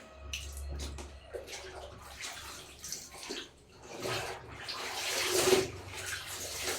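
Laundry being washed by hand in a basin, close splashing, sloshing and wringing water sounds in uneven bursts, growing louder toward the end, no talking.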